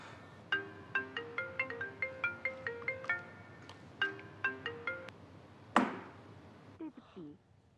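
A melodic electronic phone ringtone plays in repeated chiming phrases, pausing briefly before resuming, then cut off by a sharp click and faint rustling.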